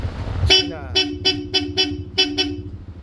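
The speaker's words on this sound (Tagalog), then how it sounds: "Original na Boss Europa silver horn." A Boss Europa silver horn fitted to a Yamaha Aerox V2.1 scooter sounds six short, loud, bright beeps in an uneven rhythm after a brief low rumble, heard close up.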